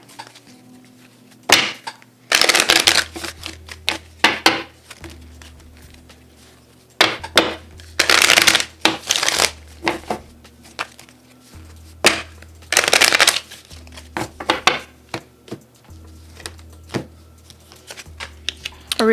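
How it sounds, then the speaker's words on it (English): Oracle cards are shuffled by hand in repeated bursts of crisp riffling and slapping, close and loud, separated by short pauses, with faint low background hum between. "I'm going to get a few oracle cards for you"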